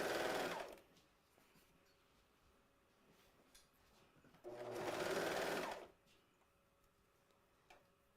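A serger or coverhem sewing machine stitches a cuff in two loud, fast whirring bursts, the first brief and the second about a second long, separated by quiet pauses with faint ticks.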